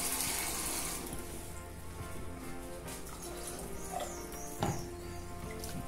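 Water poured into a pot of cuscuz paulista as it cooks, a quiet, steady running trickle with a faint splash near the end, with no talking.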